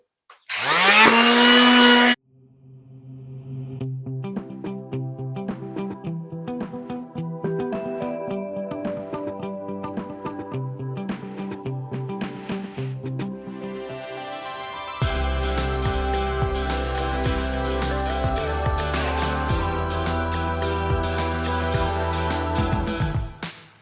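A power sander buzzes against sandpaper while flooring is worked on in a campervan build inside a Ram ProMaster, opening with a brief loud burst, then a steady rasping drone that grows louder and harsher in the final stretch.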